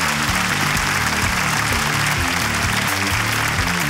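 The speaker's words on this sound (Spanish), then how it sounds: "Un fuerte aplauso para Pingas Aluminio." Sustained, loud audience applause fills the whole stretch, dense clapping from a crowd at a live comedy show, steady and unbroken without voices.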